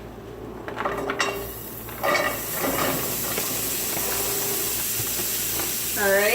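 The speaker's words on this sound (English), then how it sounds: "put the celery on and let you listen to it" Hissing sizzle of fresh cold celery hitting a hot pan, steady and close, with brief speech early on and clattering kitchen sounds.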